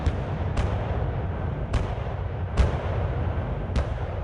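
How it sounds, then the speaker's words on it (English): French 75mm field cannons fire a barrage on a World War I battlefield at the Marne, five sharp booming reports spaced roughly a second apart over a continuous low rumble, with no voices. "The barrage he unleashes is furious and awe-inspiring."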